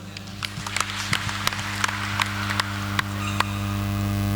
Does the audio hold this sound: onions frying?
no